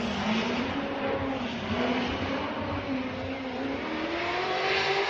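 A Formula Drift car in New Jersey qualifying holds a sustained, high-revving engine drone through the course, with pitch rising and falling steadily and loud, dense tire-and-exhaust roar throughout.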